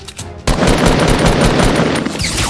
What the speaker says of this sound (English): Oh shoot, he nailed me with a sniper.